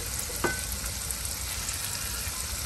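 Four green chillies frying in a pan with ginger, a steady, dense close-up sizzle with faint crackles and a single light clink early on.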